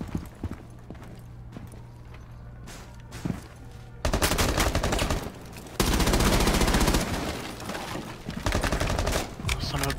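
Rapid gunfire in the tactical shooter Rainbow Six Siege, fired near a window in a bar area, erupts as loud, sustained bursts after a few quieter seconds and keeps rattling to the end.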